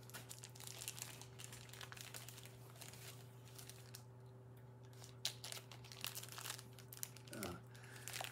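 Crinkling and tearing of plastic or paper packaging as a mail package is cut open, soft close rustles and scrapes over a steady low background hum.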